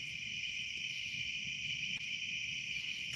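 Crickets chirp steadily in a high, continuous trill outdoors at night, with the faint crackle and rumble of a smoky maple campfire underneath.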